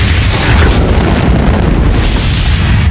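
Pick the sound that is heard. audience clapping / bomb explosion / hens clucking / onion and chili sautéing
bomb explosion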